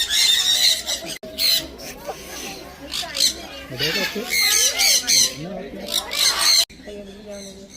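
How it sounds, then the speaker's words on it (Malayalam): Birds squawking in an enclosure at a farm, a busy run of shrill, repeated calls overlapping one another, fairly close and loud, with people talking underneath. "കിളികളെ ഞാൻ കണ്ടു."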